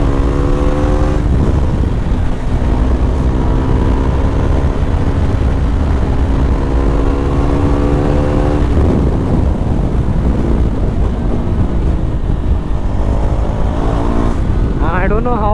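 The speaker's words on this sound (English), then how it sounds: "I don't know how the audio of the bike comes on this GoPro mic" A KTM Duke 390 rides through busy night city traffic in Dadar, its engine note rising and falling through gear changes under heavy wind rush, with a rider talking over it.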